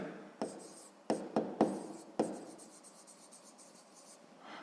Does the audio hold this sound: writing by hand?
yes